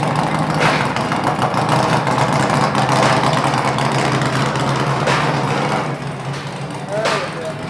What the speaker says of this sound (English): we got a guy deciding to pull his bike out here